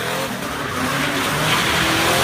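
A 1969 Dodge Charger R/T muscle car's engine roars loudly and continuously, a dense, sustained rumble that swells slightly toward the end with no voices.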